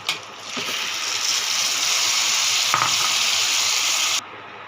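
Boiled chana dal added to a hot pan with slit green chillies, a loud steady sizzle and frying hiss that holds throughout before cutting off abruptly, with a clack of a utensil midway.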